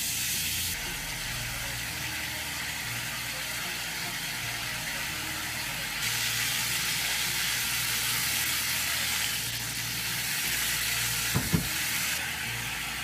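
Wet masala cooks in a pan with a steady hissing sizzle that swells and fades in broad waves, and a single soft knock near the end, close and without any talking.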